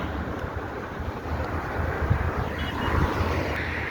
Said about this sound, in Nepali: हावा लागिरहेको छ